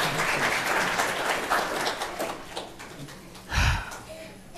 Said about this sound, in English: you can clap for it